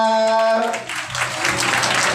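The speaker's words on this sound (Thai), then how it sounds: "ปรบมือหน่อยครับ" Guests at a Thai wedding celebration break into a burst of applause, the clapping swelling to a dense, steady patter as a held musical tone fades out beneath it.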